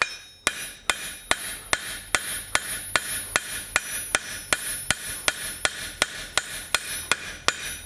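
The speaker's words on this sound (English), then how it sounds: "I'm back with the smaller hammer to continue the shaping of the handle." A smaller blacksmith hammer shapes an iron handle for an 18th–19th century toaster, striking metal on the anvil in about seventeen sharp, ringing blows at a steady, slightly quickening rhythm, close and clear, with no talking.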